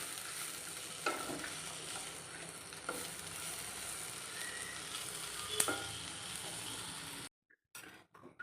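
Chickpea masala curry frying and sizzling in a pan, a steady bright hiss with occasional stirring scrapes and a light clink of a utensil against the metal, close and continuous before it cuts out abruptly near the end.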